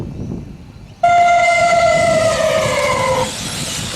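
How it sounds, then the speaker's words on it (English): A loud, steady race start siren blast starts abruptly, holds for about two seconds with a slightly falling pitch, then cuts off, leaving background noise. "Wait for the siren, not the countdown."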